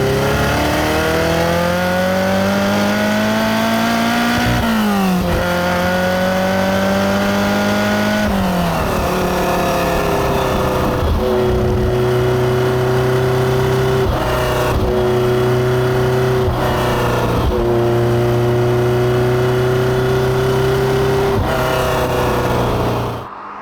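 A 1980 Ferrari Dino 308 GT4 pulls hard along an open road, its engine loud and close, climbing through the revs in one gear after another with brief dips at each shift, steady and continuous throughout.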